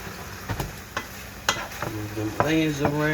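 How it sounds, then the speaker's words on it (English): Onions stirred and fried in a pan for fish fried rice, scraped by a double spatula with a few sharp scraping strokes over a steady sizzle, close and moderately loud. "Move them onions around."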